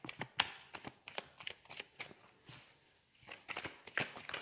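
Oracle cards being shuffled by hand, a quick series of soft riffling flicks and slaps in uneven bursts, close and quiet with a short pause midway.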